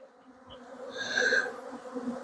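Honeybees drone steadily around a hive during a honey harvest in Adana, a close, continuous buzz that swells slightly in the middle, with no speech.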